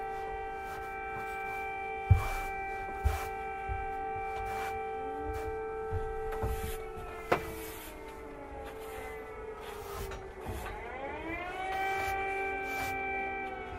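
An air raid siren wails over Kyiv, holding a steady rising-and-falling tone that carries across the city, with a few sharp thuds and scraping sounds nearby.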